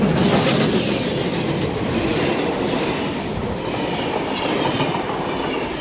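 Steam locomotive 3801 on an outback tour in Australia rolls steadily along the rails, a loud, continuous rumble with rhythmic clickety-clack of the wheels throughout and no voices.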